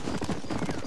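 A horse in Red Dead Redemption gallops in a fast, steady clip-clop of hooves, close and loud, with a neigh mixed into the brief burst.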